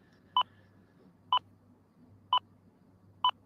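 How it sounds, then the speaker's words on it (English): A WLAN Pi Go AP Finder locating a Wi-Fi access point sounds four crisp, evenly spaced electronic beeps about one second apart over a faint low hum, with no talk. "So the more intense the beep is, the closer you are to the AP."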